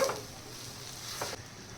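Dal kairi being stirred in a kadhai over a low gas flame, a quiet, steady scraping with a faint sizzle beneath and a couple of brief spoon knocks, close up.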